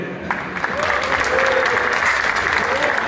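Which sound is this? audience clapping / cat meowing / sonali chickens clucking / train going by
audience clapping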